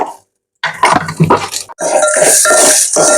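Leftover cooked rice being stirred with turmeric and salt in a metal pot, a spoon scraping and clinking against the sides in several close, loud strokes.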